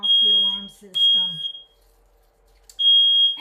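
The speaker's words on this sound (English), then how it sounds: "don't know how to turn off the alarm system" A smoke alarm shrieks with a loud, steady high-pitched tone in repeated bursts, cutting in and out while a person talks between and over them, with a near-silent pause before the alarm returns.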